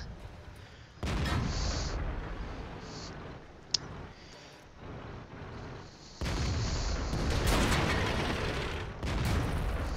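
Tank cannon fire in the video game World of Tanks comes as heavy booming blasts with sharp mechanical clicks in between, loud bursts that start and stop across the stretch.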